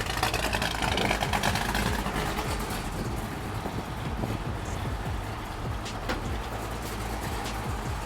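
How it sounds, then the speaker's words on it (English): A 1986 Chevrolet C10 truck with a 500-horsepower 502 GM big-block crate engine runs at a steady, loud idle. The deep rumble holds without a break and no one speaks. "it's powered by a 502 big block, producing 500 horsepower"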